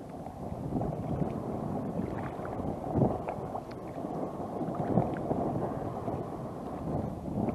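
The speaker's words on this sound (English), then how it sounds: "Windy." Low, rumbling wind buffets the microphone while paddling near Moore's Creek Battlefield, steady and muffled with occasional stronger gusts, no voices present.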